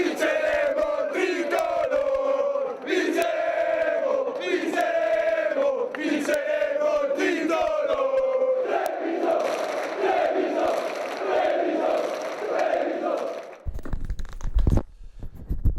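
Basketball fans celebrating Treviso Basket's promotion to Serie A chant loudly in unison in a rhythmic, sustained crowd chorus, with shouting and a noisy roar toward the end.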